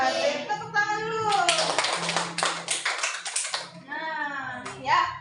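A class of sixth-grade children clapping their hands together in a primary school lesson, a dense burst of about two seconds between stretches of a woman's and children's voices.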